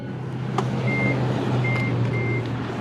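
Three short electronic beeps from an electric vehicle charger as charging starts, over a steady low hum, with a faint click near the start.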